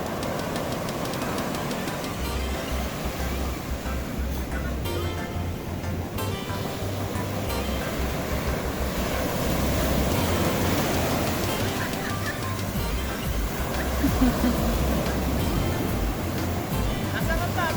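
Sea surf rolls at San Juan, La Union beach, a broad continuous wash of noise that swells louder midway, with wind and voices mixed in.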